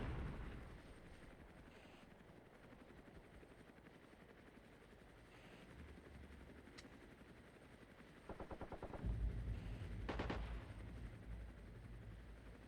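Anti-aircraft guns fire in the Armored Brigade II war game, Scandinavia setting, amid rolling battlefield noise; a rapid burst of automatic fire around the middle and heavier overlapping gunfire near the end, with a helicopter overhead.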